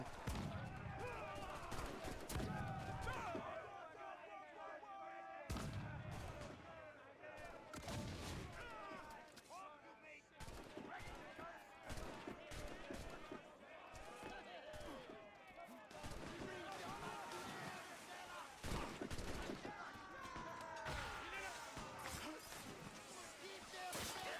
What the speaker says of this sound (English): I took a broadside cannon as I was boarding.